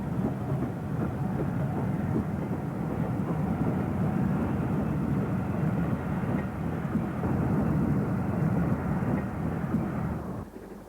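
A steady, heavy rumble and roar of a passing steam locomotive, number 46237 City of Bristol, hauling a diverted express train, holds constant for several seconds, then cuts off abruptly near the end.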